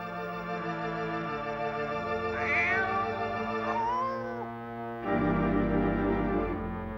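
A cat gives drawn-out, wavering meows over a sustained tonal background, its cries rising and bending through the middle and again near the end.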